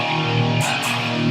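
A distorted electric guitar is strummed openly, with no palm muting, giving a sustained, ringing chord wash that holds steady throughout, with a couple of brighter pick scrapes on top.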